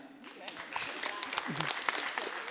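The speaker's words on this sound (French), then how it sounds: "Vous pouvez aussi applaudir si jamais." An audience applauds after baptism testimonies at a church gathering, with a brief, moderately quiet burst of clapping mixed with voices.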